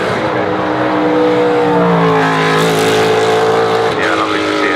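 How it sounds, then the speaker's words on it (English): Ricky Taylor's race car engine at the Goodwood Festival of Speed, a loud, rorty note that rises and shifts in pitch as it revs and passes, with talk over it. "Rorty engine of Ricky Taylor, an illustrious American racing family"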